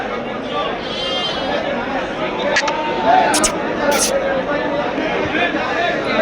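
Pure Bandur sheep lambs bleat at a crowded sheep market in Mandya. The bleats come through under loud, nearby talking and general crowd chatter.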